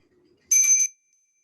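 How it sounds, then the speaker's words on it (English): A single bright bell strike rings out alone in near silence to open a guided meditation, a clear metallic tone that sounds briefly and fades quickly. "Use the bell to signal the start of the guided meditation."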